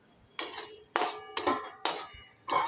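A metal lid clanks against a cooking pan of frying onions, five separate bright metallic knocks spaced roughly half a second apart, close and clear with no talking.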